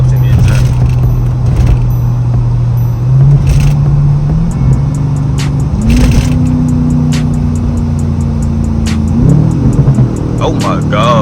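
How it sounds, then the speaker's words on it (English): Chevy Camaro SS engine in sport mode drones loudly and rises through revs as the car drives, with sharp exhaust crackles and pops; talk is heard at times over it. "Throw this in sports so y'all can hear them pops in this joint."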